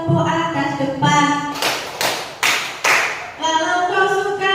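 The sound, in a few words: hand clapping to a children's action song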